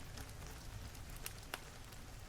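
Steady rain falls as a soft broadband hiss with occasional louder drops, continuous and fairly faint with no voices.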